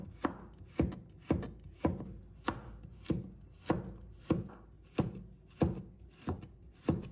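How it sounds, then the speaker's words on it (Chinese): A knife chops a carrot into diamond slices on a board, about a dozen crisp, evenly spaced thuds in a steady rhythm, close and clear with no talk. "再切成菱形片"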